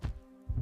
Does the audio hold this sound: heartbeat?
yes